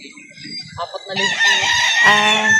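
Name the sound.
chicken crowing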